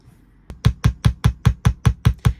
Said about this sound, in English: hammering is very important for you to harden the wire